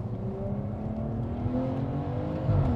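A Stage 2+ tuned BMW 540i with a B58 engine, about 480 bhp, drones steadily while driving, its engine note rising gradually under a constant road and cabin rumble, heard from inside the car.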